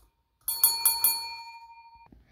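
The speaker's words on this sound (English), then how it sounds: "Ring that bell." A wrestling match bell rings three quick strikes in a row, then the bright metallic tone hangs and fades for about a second before cutting off, loud and alone.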